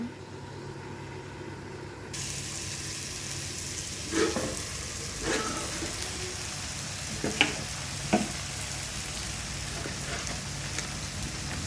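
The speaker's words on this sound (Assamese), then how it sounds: "লাওখিনি সিজিছে" Bottle gourd simmering with fried fish in a covered pan gives off a steady, close sizzle and bubbling, with a few soft knocks and stirs against the pan.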